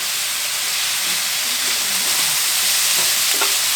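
Vegetables, onions and pepper sizzle steadily on a Blackstone griddle, a loud, continuous hissing fry with faint scraping stirs near the end and no voices.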